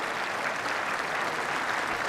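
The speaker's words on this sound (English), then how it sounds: "it's a sympathy cheer there" A lawn bowls crowd at the Commonwealth Games gives a sympathy cheer, steady applause and clapping filling the whole moment at moderate volume.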